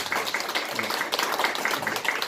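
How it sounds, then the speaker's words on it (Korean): A congregation at a church Sunday service claps together in dense, sustained applause throughout, fairly loud and close. "잠깐 박수로 환영했습니다."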